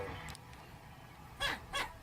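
A voice imitates a dog, giving two short, gruff barks after a quiet stretch with faint background noise.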